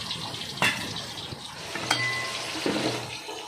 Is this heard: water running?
yes